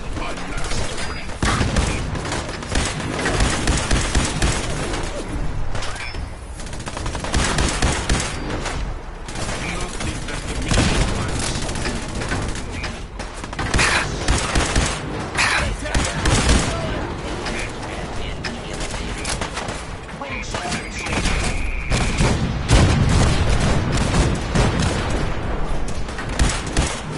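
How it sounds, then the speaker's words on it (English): Cannons and gunfire boom repeatedly in the Fallout 4 video game, a dense continuous battle of blasts and shots throughout, with voices speaking amid the fighting. "The cannons are ready. Fire at will."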